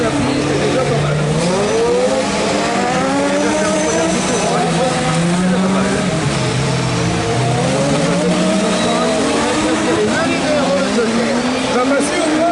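Rallycross race cars at the Touraine track roar loudly and continuously during a French championship final, their engines rising and falling through repeated rev sweeps, with commentary voices running over the noise.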